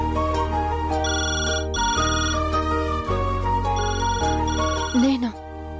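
A telephone rings with a repeating electronic ringtone melody in a domestic scene, loud and close, with voices speaking over it near the end.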